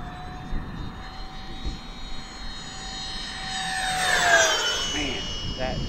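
An E-Flite A-10 Thunderbolt model jet with twin 64mm electric ducted fans flies over a grass field. Its smooth, whining fan roar swells as it passes close, then the pitch drops away as it recedes.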